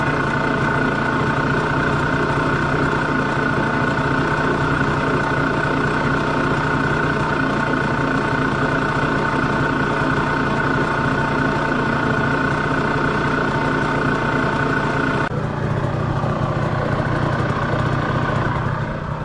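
Air-cooled Vespa S50 scooter engine idling at around 1800 rpm while stationary, a loud, steady buzzing drone that continues without pause and shifts slightly in tone near the end.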